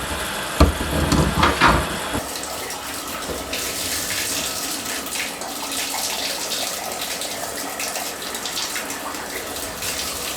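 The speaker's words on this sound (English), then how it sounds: "Water to the tub looked good." Steady gush of water pouring into a tub, continuous and fairly loud, after a few brief knocks and clatters at the start.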